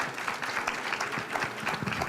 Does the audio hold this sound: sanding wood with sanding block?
no